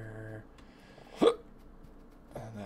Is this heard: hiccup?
yes